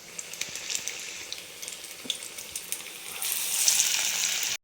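Parippu vada, lentil fritters made with drumstick leaf, fry in hot oil with a continuous close sizzle and crackle that grows louder and brighter toward the end.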